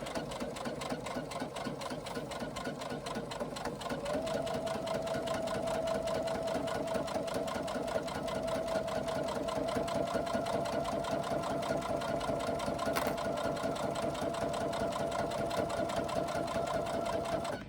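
A sewing machine runs steadily stitching along the edge of a fabric carry-all tote bag, a continuous close mechanical whir with a rapid needle rhythm that holds for the whole stretch.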